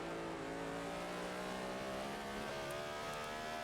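EuroNASCAR race cars in a sim racing game at Mugello. A loud, sustained engine roar holds steady and climbs gradually in pitch under acceleration, with no talk over it.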